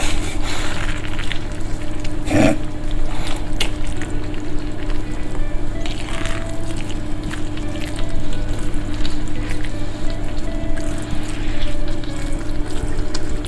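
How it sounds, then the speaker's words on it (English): Beans added to prawn jambalaya in a small saucepan: a continuous loud sizzle and bubbling hiss, close up, with occasional clinks of a utensil against the pan. "next we're going to add some beans because it's all looking quite nice"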